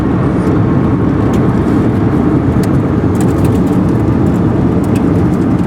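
Car climbing over Steamboat Mountain, the biggest mountain pass on the Alaska Highway, with a loud, steady interior road and engine roar and faint ticking clicks on top.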